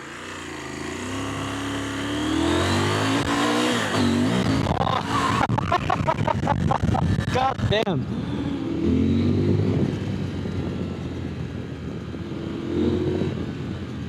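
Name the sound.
CFMOTO Ibex 950 motorcycle engine accelerating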